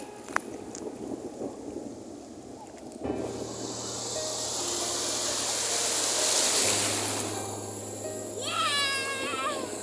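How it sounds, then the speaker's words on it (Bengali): Sea waves at Bakkhali beach wash in after a quieter opening, then swell and ebb as a moderately loud, continuous surf with a low steady hum beneath it. "বকখালির ঢেউ তুলনামূলক দীঘা বা পুরীর চেয়ে তো একটু কমই আছে"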